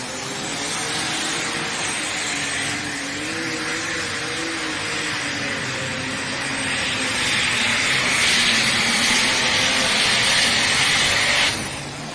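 An International 1066 tractor tagged "Insanity" roars down the track at a tractor pull, its engine a loud, sustained, steady drone that swells in intensity toward the end before cutting off abruptly.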